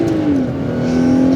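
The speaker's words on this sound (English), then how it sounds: "You can smack it off rev limiter." A Toyota Crown Athlete's engine revs hard toward the rev limiter, a strained, steady engine drone with a slight dip in pitch before climbing and holding near the top, heard up close without talk.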